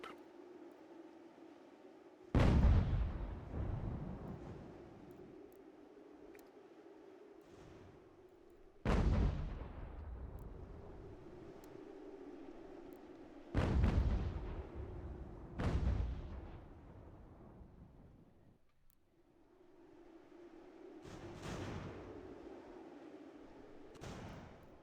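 Cannons fire in an American Revolution strategy game, five heavy booming blasts spaced several seconds apart, each followed by a rumbling decay over a low ambient hum.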